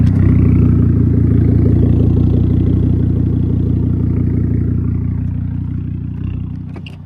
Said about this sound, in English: There's that exhaust.